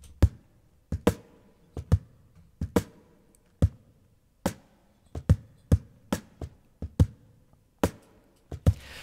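Cajon snare strikes drenched in a Lexicon Hall reverb, about fourteen sharp, loud hits in a loose, uneven rhythm, each trailing a short wash of reverb with only a little low-end thump.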